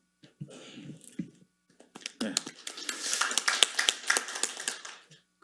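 Applause for a speaker at a Korean construction engineering policy forum panel discussion, with a few scattered claps that swell into a denser round of clapping and then fade, while a voice talks near the start.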